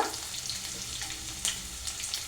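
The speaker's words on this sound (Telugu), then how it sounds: "కరివేపాకు కొంచెం ఫ్రై అవ్వాలి." Cumin seeds and curry leaves frying in hot oil for a potato and cauliflower dish, a bright continuous sizzle with small crackles and pops, close and steady.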